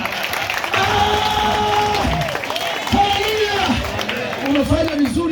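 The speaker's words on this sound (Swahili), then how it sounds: "Chapia makofi." Audience applause at a church gathering: clapping from a crowd mixed with voices and cheering, with talk running over the top throughout.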